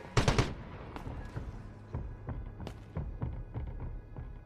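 Gunfire in the competitive shooter Delta Force: a loud burst of rapid shots opens, followed by scattered single cracks and short volleys spread unevenly across the moment, with no talking.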